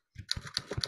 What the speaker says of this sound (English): Typing fast.